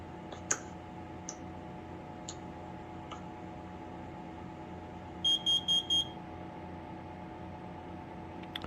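A Kidde C3010 smoke alarm's piezo sounder gives a short, quiet burst of four rapid high beeps, faint against a steady background hum, with a few scattered clicks before it.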